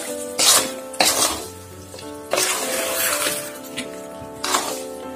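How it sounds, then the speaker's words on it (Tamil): Mango pickle is stirred in hot oil in a pan, a metal spoon clanking and scraping against the pan in several sharp knocks amid a soft sizzle, with no talk. "எண்ணெய் நல்லா கிண்டுவோம்."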